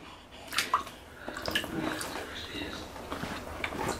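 A four-month-old baby smacks bath water during a first swim, producing soft splashes and drips in scattered bursts while adults talk close by.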